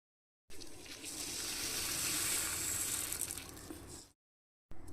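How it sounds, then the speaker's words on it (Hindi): A pot of water with fenugreek seeds on the boil in a home kitchen, a steady broadband hiss and bubbling rumble that runs for several seconds and then cuts off, with no talking. "तो यहाँ पे मैंने पानी उबालने के लिए रखा है।"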